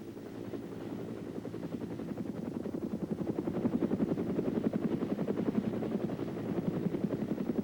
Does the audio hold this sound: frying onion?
no